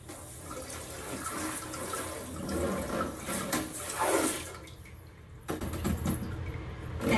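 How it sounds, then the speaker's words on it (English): Water sprays and gushes steadily from a diaper sprayer, rushing and splashing at close range for several seconds, with a brief lull before the flow resumes. "Just do a rinse of the spray mate itself with water."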